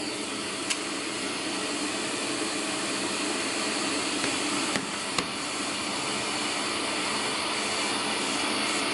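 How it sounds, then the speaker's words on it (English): A vacuum pump holding a timber workpiece down on a CNC router bed for cutting wooden guitar picks, giving a steady, loud broadband roar throughout with a few faint clicks, no talk. "Full vacuum on it now."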